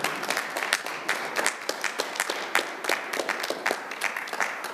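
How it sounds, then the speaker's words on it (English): Audience applause at a Department of Justice award ceremony for a task force of the year, a steady burst of many hands clapping at moderate volume. "Can we applaud ourselves?"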